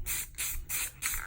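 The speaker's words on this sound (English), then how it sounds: "So I'm just gonna hit it with some clear spray paint." Clear spray paint hisses from an aerosol can onto aluminum in four short, close bursts separated by brief pauses.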